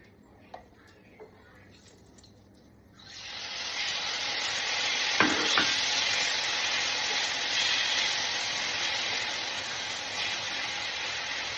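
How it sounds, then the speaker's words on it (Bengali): Carrots and capsicum hit a hot pan and burst into a loud, steady sizzle that keeps going, with a couple of utensil knocks, after a few quiet seconds of light kitchen clatter beforehand. "এবার এটার মধ্যে আমি গাজরটা আগে দেব, দেওয়ার পরে একটু ভাজা হলে তারপরে ক্যাপসিকামটা দিয়ে ভেজে রেখে দেবো"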